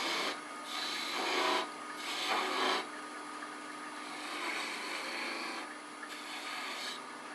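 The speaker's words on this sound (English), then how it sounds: "So we're going to come in here and make a little V groove" A bowl gouge cuts a V groove into a wooden finial spinning on a lathe. It makes a raspy scraping sound that swells into a few distinct louder passes, then settles into a steady, softer cut.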